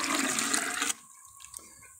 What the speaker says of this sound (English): then I'm going to take the bowl of whey I just drained and then pour that back into the pot.